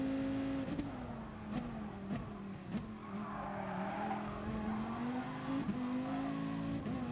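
A Dodge Viper SRT in the racing game GT Sport accelerates with a steady droning engine note. Several brief sharp gear shifts break the tone, and tire noise rises and falls underneath, all heard fairly faintly.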